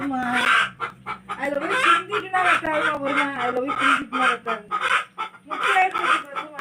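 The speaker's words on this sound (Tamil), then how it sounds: "அது கோழி போகவே மாட்டேங்குது இந்த இடத்த விட்டு" A chicken clucks close by, repeated short calls running steadily under someone talking loudly throughout.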